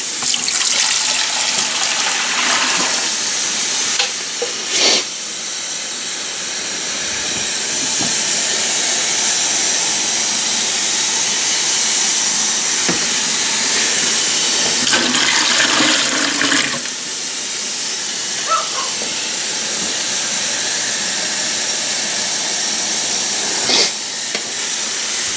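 Water rushes steadily into a 30 gallon seahorse aquarium being filled with plain tap water for a leak test, a loud, continuous hiss and splash lasting the whole stretch with a few brief surges and no talk.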